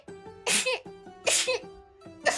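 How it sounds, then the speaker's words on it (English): Three sharp sneezes in quick succession, loud and close, each a bright burst over a faint humming tone. "Was that 5 sneezes?"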